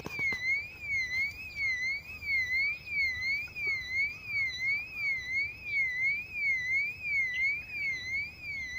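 A car alarm wails steadily in a rising-and-falling electronic tone, cycling repeatedly at moderate distance with no pauses.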